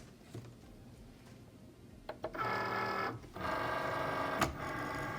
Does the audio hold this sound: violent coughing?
no